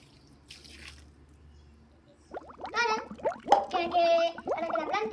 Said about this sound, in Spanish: El último paso es poner un poquito de agua